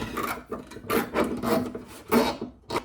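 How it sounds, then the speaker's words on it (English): A strap rasps in short repeated pulls as it is fished through and cinched on an L-shaped bracket mount for a Nilight LED light bar, close and rhythmic, with brief pauses between strokes. "Just fish your strap through, and then"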